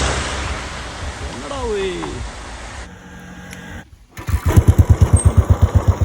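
A motorcycle on the high mountain road to Illikkal Kallu near Kottayam, heard first as steady wind rush with a brief voice, then as a close, rhythmic thumping engine that grows louder.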